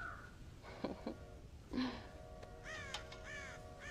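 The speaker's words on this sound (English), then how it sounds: "God damn crows!" Several harsh crow caws sound at a middle distance over a steady outdoor background, coming in separate bursts of calls across the whole stretch.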